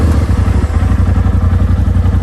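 A 2020 Polaris RZR Turbo S engine runs with a steady, rapid mechanical clatter and a low throbbing pulse, close and loud, continuous and with no voices.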